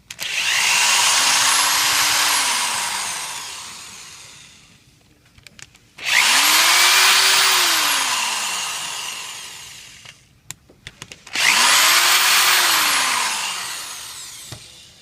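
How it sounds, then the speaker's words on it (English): Power driver backing out three Torx screws from a pump, three separate close bursts of high whirring motor that rise and fall in pitch, with brief clicks and pauses between them. "So we'll take the three Torx screws that hold the pump pit onto the motor."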